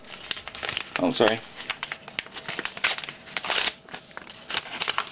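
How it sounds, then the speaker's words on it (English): An envelope being torn open, close paper crinkling and ripping in short bursts, with a person briefly speaking over it. "So we're opening up the envelope."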